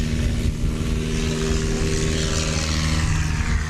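A STOL propeller plane roars through a 70-foot takeoff at a swamp STOL competition in Jennings, Louisiana, its loud, steady engine and prop drone holding strong and close from start to finish.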